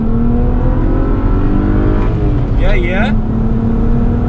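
A Stage 1 BMW 335i accelerates at full throttle, a loud, steady engine drone rising slightly in pitch close up from inside the car, with a brief voice partway through.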